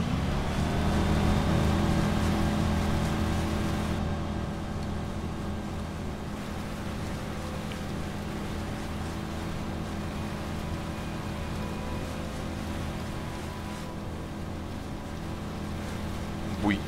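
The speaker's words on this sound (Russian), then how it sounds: "Предусмотрительно кто-то оставил свой катер." A motorboat engine drones in the video game Watch Dogs Bad Blood, a steady, continuous hum that holds at an even level throughout with no speech over it.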